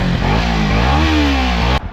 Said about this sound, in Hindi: आवाज़ बढ़िया मिलेगी क्योंकि पैरेलल ट्विन इंजन मिल जाता है